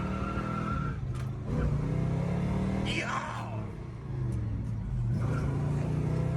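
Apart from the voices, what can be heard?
old Chevy car accelerating on a country road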